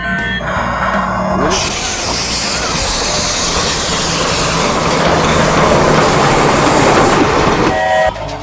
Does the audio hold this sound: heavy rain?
no